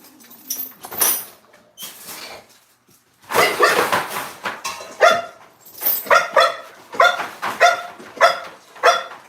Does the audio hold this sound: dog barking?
yes